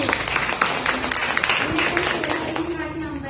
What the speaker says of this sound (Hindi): जोरदार तालियां इनके।